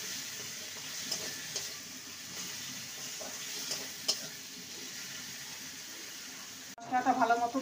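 Turmeric powder and spices sizzle softly while stir-fried with melted tomato in a pan for a jackfruit and egg dish, a faint steady frying hiss with light stirring scrapes and a louder clatter near the end.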